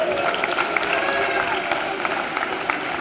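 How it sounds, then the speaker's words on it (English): Audience applause at an award ceremony, a steady dense patter of clapping from a large crowd that holds at an even loudness for a few seconds. "I think we deserve a round of applause,"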